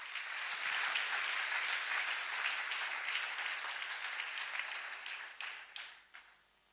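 A church congregation applauds together, sustained clapping that stays strong for several seconds before thinning out and fading toward the end.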